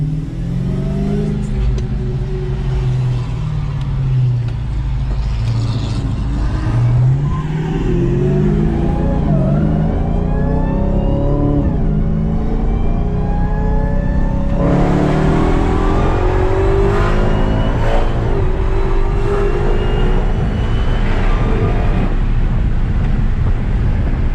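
A Dodge Hellcat accelerating hard in sport mode, engine climbing loudly through the revs in long pulls with a shift partway through; loud in-cabin roar with wind noise and no talking.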